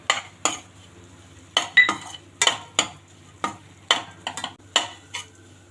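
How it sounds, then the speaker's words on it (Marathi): Makhana and poppy seeds frying in ghee for dink laddoos, stirred with a utensil that scrapes and clinks against the pan in about a dozen sharp, irregular strokes over a faint sizzle, close and with no talking. "आपल्याला हे छान तळून घ्यायचं आहे तुपामध्ये हे थोडंसं झालं की यात मी मखाने घालते खसखस घालते"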